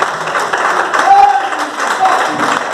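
A church congregation claps together during a Portuguese-language service, with uneven hand claps mixed with a preacher's voice and murmured responses in a reverberant hall.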